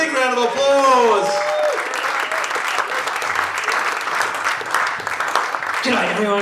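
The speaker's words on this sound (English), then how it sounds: "Please welcome Mr. Scott Angove. Big round of applause." Audience applause at a stand-up comedy show, a full crowd clapping steadily after a host's introduction, with a voice speaking over the start and again at the end.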